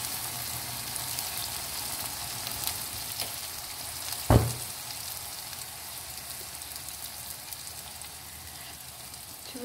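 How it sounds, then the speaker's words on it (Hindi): Fish frying in oil in a karahi, a continuous, fairly loud sizzle with one sharp knock of a utensil against the pan near the middle. "अब इसके अंदर मैं ऐड करूंगी फिश"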